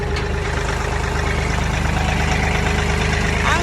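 A small tractor's engine idles steadily and close by, a continuous low rumble with an even pulsing throb that holds at a constant level throughout, with no talking over it.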